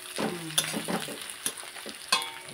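Onions frying in a pan give a low, uneven sizzle broken by scraping and clinking spoon stirs close by, with no one talking.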